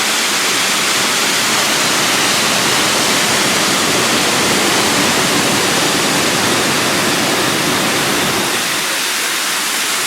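Jagala waterfall in Estonia pours over a limestone ledge, a loud, steady roar of rushing water that holds unbroken from start to finish.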